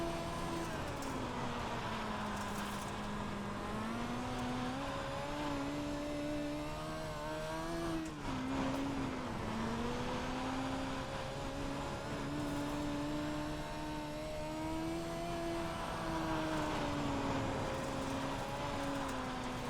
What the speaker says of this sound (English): But you can hear, I mean, I'm really having to roll out that throttle